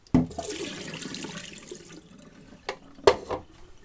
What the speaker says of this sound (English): pop some water in there and give it a rinse